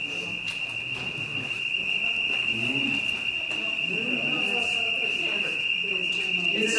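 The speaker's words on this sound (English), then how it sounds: "That would be the fire alarm." A building fire alarm rings in a steady, piercing high tone throughout a lecture setting, with people talking underneath it.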